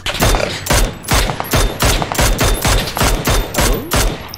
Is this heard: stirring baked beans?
no